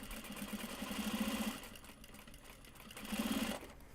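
A sewing machine stitches a drawstring seam on a large box bag, giving close, rapid mechanical rattling in two bursts separated by a quieter pause.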